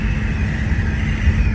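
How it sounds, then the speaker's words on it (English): Steady roaring wind noise from the wing window of a 1963 car cruising at about 60 miles an hour, loud and constant with low engine and road rumble beneath. "That wind noise you're hearing is coming from the wing window."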